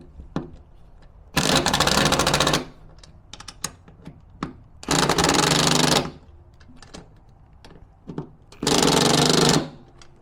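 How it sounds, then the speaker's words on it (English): A power tool tightens bolts on a Minn Kota Ulterra 112lb trolling motor mount fitted to a Quintrex 510 Sea Spirit boat. It gives three loud, buzzing bursts of about a second each, with light clicks and knocks in between. "now we just fully tight the bolts"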